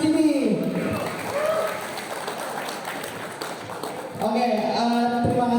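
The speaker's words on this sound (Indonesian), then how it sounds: "untuk semua berikan tepuk tangan yang meriah untuk 3 orang yang ada di depan sini" High school students applaud three people at the front during a school literacy event, a diffuse burst of clapping and crowd noise mixed with talking and music.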